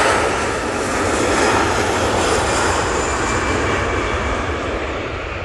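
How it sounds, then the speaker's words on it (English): A Jet2 Airbus A321ceo rolls down the runway for takeoff at Manchester Airport, a loud, continuous broadband jet roar holding steady throughout, with no talk. "we've got this Jet2 CEO now on the roll. A321 CEO, I should say."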